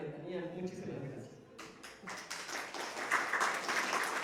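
Audience applause following a talk at a panel session, a broad wash of clapping that builds from quiet to steady and dense, with a voice audible under the start.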